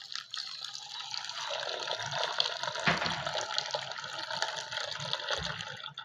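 Water is poured steadily from a small cup into a container of rosemary leaves and fenugreek seeds for soaking, a continuous close splashing, filling gurgle lasting several seconds with no talking.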